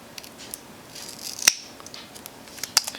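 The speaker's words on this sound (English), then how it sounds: "I'm going to cut a piece about 3 to 4 inches long." Scissors cut through a strip of Velcro: two crisp snips about a second apart, close and clear against a quiet room.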